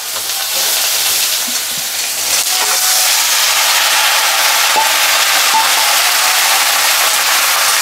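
Bottle gourd pieces fry in hot oil with whole cumin seeds and small chillies, giving a steady, loud, close sizzle with soft crackles throughout and no talking.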